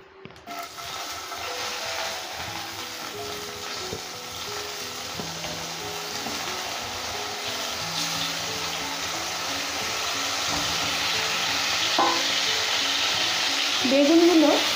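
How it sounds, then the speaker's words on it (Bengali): Eggplant pieces frying in hot oil left from frying khoira hilsa fish, a steady loud sizzle that builds slightly, with occasional clinks of a utensil near the end. "বেগুনগুলো আমি একটু ফ্রাই করে নেব।"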